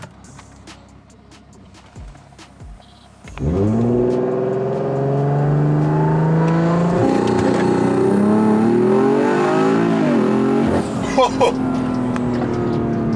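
A BMW 340i with a B58 engine and stock transmission launches hard from a stop in second gear, its engine note rising loud and steady as it accelerates for several seconds, with a brief shift dip near the end.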